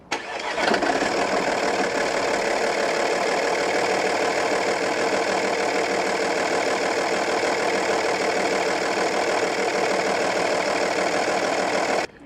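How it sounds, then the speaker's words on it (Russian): An Audi A8 with a 2.5 TDI V6 diesel (AKE) starts up and then idles roughly with a misfire, giving a loud, steady, uneven knocking rumble that runs on alone until it cuts off. "Машинка очень сильно троит, или пятерит, или четверит, но давайте послушаем."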